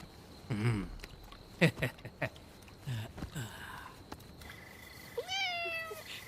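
A cat meows several times in a movie scene, with a few short meows early on and a longer, rising-then-falling meow near the end, all close and fairly clear over soft background sounds.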